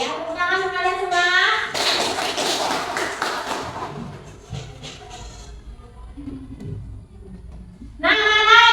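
A group of children in a classroom clap in applause after a song about the food chain, a dense burst of hand claps lasting about two seconds, then fading into quieter shuffling and thumps.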